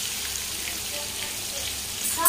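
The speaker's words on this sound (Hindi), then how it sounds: "अब जिमीकंद में हल्का नमक और हल्दी डाल करके इसे भी अच्छे से फ्राई करेंगे।" Cubed elephant foot yam fries in hot oil with salt and turmeric, a steady close sizzle that holds evenly throughout the short stretch and swells slightly at the end.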